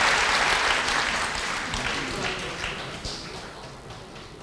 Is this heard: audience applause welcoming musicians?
yes